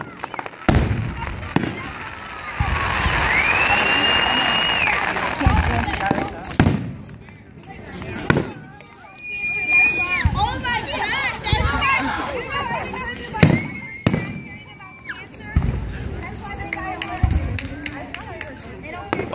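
Fourth of July fireworks burst at night in a series of sharp bangs and crackles, some close and loud, others softer, while people talk and chatter throughout.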